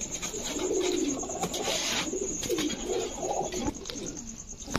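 Pigeons of large fancy breeds coo in a loft of several pairs, with repeated soft throaty calls rolling across a steady background hiss, fairly close and continuous.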